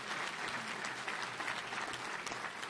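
Applause from a banquet audience honoring award winners at a touchdown club awards dinner, steady dense clapping filling the room for a few seconds.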